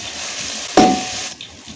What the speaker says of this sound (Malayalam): സവാള വാടി വരുമ്പോൾ ഇഞ്ചി ചതച്ചതും വെളുത്തുള്ളി ചതച്ചതും ചേർത്ത് ഇളക്കുക.